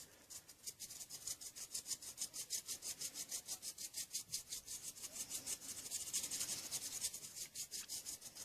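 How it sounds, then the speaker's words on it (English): A big brush sweeps excess off a miniature model in quick, even back-and-forth strokes, a soft rhythmic bristly swishing that stays close and faint throughout. "grab myself a big brush, whoops, brush it down a walk, and brush off any excess"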